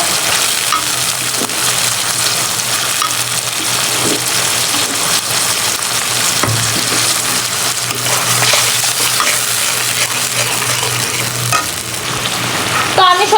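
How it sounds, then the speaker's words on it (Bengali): Onions fry loudly in a hot pan with ginger garlic paste added, making a dense, continuous close-up sizzle with a faint low hum underneath and a brief clatter near the end. "তো পেঁয়াজটা ব্রাউন কালার হতে থাকুক তারপর মশলাগুলো দিয়ে দিব তো এখন দিয়ে দিব আদা রসুন বাটা"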